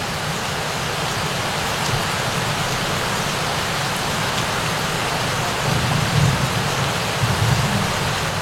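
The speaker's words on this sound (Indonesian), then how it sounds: "Apalagi ini jorannya kena hujan kan" Steady rain pours down over a fishing rod during a fishing outing, a dense, even hiss that fills the whole stretch, with a few heavier patter bursts near the end and no voices.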